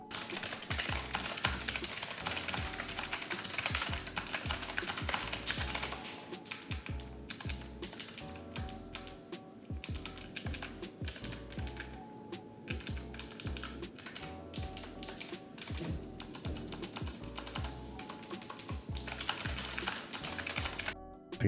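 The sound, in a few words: typing on Logitech G915 keyboard, GL Clicky mechanical switches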